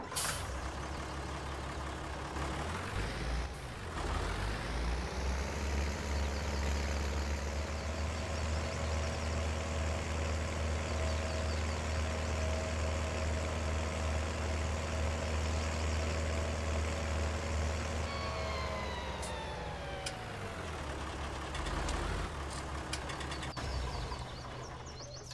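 A tractor engine in Farming Simulator 19 on the Felsbrunn map drones loud and steady throughout, pitch climbing as it revs up early and winding down near the end, with no voices.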